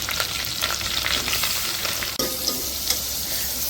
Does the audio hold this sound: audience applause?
no